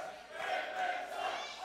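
A wrestling arena crowd chants together after a loss, a dense, distant-sounding wall of many voices rising and falling, fairly faint and continuous.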